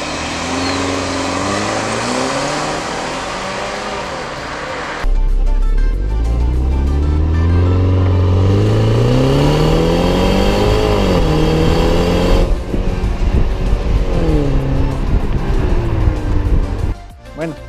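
A BMW X3 SUV drives on the road, its engine note rising and falling through gear changes with loud, close acceleration sweeps and steady road and wind noise.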